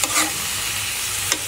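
Bitter gourd and potato bhaji frying in a pan makes a loud, close, steady sizzling hiss, with a couple of quick stirring scrapes at the start and end.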